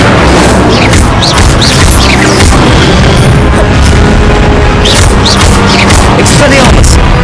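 Incendio fire spell cast in the Hogwarts Legacy video game amid combat in a forest, loud booming bursts and whooshing blasts packed densely, with voices shouting over the din.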